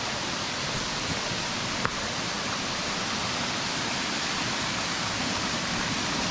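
Waterfall at Pin Pin falls by Bang Wad Dam in Kathu, Phuket, pouring in a steady, dense broadband rush of water that stays constant throughout with no voices.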